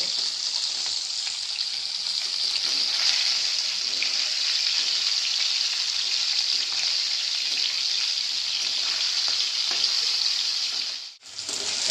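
Fish rubbed with salt and turmeric fries in oil with a loud, steady hiss and crackle that runs on unbroken, dipping briefly near the end, with no voices.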